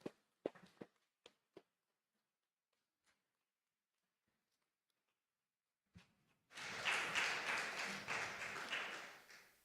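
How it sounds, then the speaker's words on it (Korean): A church congregation bursts into encouraging applause as people exit a Sunday service. A few scattered taps and a long near-silence come first, then dense clapping breaks out suddenly and continues strongly to the end. "퇴장할 때 격려의 박수 부탁드리겠습니다."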